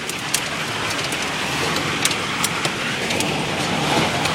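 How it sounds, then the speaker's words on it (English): Hail pounding a car during an Arkansas storm, a dense continuous clatter with sharper individual impacts standing out, loud and close throughout. "it's fucking hailing out here."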